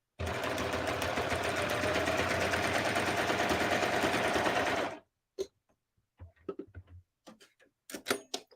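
A serger sewing machine runs steadily for about five seconds while stitching serger crochet, then stops, followed by a few scattered clicks and light handling sounds.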